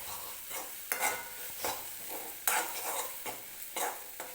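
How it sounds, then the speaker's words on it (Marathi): Spices sizzle with onion and tomato in a pan for a flower and green pea bhaji as a spoon stirs and scrapes in repeated strokes, soft and close with no voices. "मी हे मसाले असेच कांदा आणि टोमॅटो सोबत भाजून घेते"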